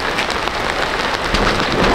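Steady, dense rain hissing across a surface, continuous and fairly loud throughout with no voices.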